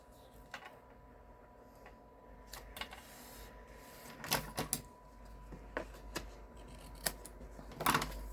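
Scissors snip through a long strip of patterned designer paper in a quiet crafting room, with several sharp, close cuts scattered across the clip, the loudest near the end.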